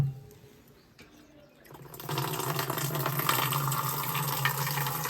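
Water gushes from a tap in a Himachal village home where the supply comes and goes. Faint background noise gives way to a loud, steady rush of flowing water that continues without a break.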